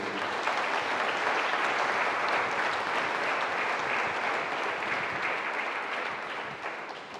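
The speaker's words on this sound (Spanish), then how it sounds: "Tanto me te pide también un aplauso a cada uno, por favor." Sustained audience applause at a Christmas Eve gathering, steady dense clapping throughout that eases slightly near the end.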